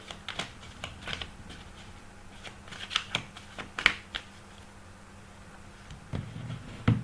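Tarot cards shuffled by hand for a daily reading, a series of soft close riffling and tapping bursts with brief pauses, no speech.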